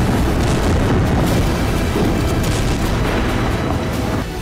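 Loud, continuous rumbling blasts from Israeli air strikes on southern Lebanon, with deep booms merging into a sustained roar and no voices.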